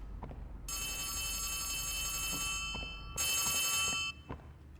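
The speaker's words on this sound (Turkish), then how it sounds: "Nerede çalıyor bu telefon?" A telephone rings inside a Huggy Wuggy horror video game, with two long shrill electronic ring bursts separated by a pause, fairly quiet and alone over a low ambient hum.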